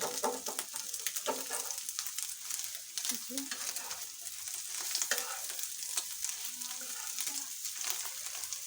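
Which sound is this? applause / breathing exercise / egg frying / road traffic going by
egg frying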